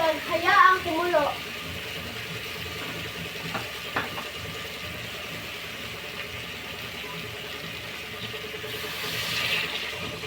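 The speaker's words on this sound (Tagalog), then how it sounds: "Ibuhos ng tubig at hayaang kumulo." Water is poured into a cooking pot for chicken adobo, a soft, steady splashing hiss that runs faintly and evenly throughout after a brief clatter at the start.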